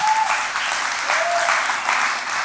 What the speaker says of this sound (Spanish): Le damos un aplauso al Señor en este día.